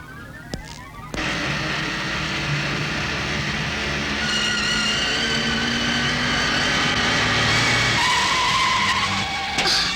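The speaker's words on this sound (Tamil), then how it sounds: "வண்டி வருது" A vehicle approaches with tires skidding loudly, a sustained screeching slide over engine roar that holds steady and close for most of the stretch, with no voices.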